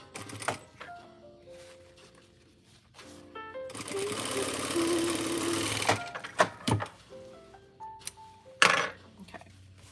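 A sewing machine stitches a baby quilt in a sustained, fairly loud whirring run of several seconds, with shorter bursts of stitching and clicks around it and faint talk at the edges.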